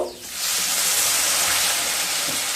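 Water poured into sautéing lentils in a hot pan sets off a sudden loud, broad steaming hiss that swells and then holds steady, close and without talking.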